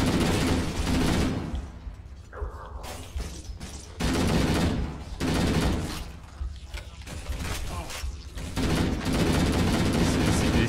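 Heavy bursts of shotgun and assault rifle fire from Halo: Combat Evolved come in loud, dense volleys separated by brief lulls, close and booming with rattling automatic stretches, and faint voices talking beneath.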